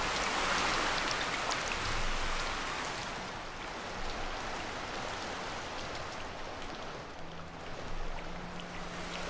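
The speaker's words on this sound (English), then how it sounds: "Is it because of the rain?" Steady rain in a video game falls as a continuous patter and hiss of drops on surfaces, a little louder at first and then settling to an even level, with a faint low hum entering near the end.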